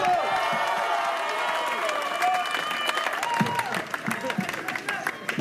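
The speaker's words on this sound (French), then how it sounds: "L'applaudissement, s'il vous plaît." Audience applause and cheering fill a hall at a French school-themed show, a dense steady wash of clapping with crowd noise and sustained music or voices underneath, swelling slightly toward the end.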